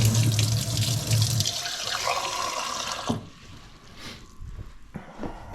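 Cold tap water runs hard into a bowl for Hungarian fried dumpling dough, a loud close splashing gush for about three seconds before cutting off, followed by faint kitchen handling sounds.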